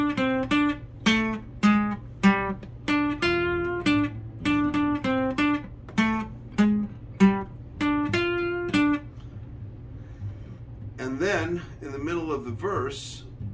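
Electric guitar plays the second lick of a song, a riff of distinct repeated plucked notes in a steady rhythm, alone and clear, then fading into quieter noise near the end.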